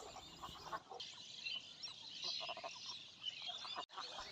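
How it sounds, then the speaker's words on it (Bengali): Ducks on a village wetland give faint, scattered honking quacks over a quiet outdoor background, with a brief dropout near the end. "বিলে হাঁস নিশ্চিন্তে ছেড়ে দেয়, আবার হাঁস নিজ তার গন্তব্যে নিজেই চলে যায়"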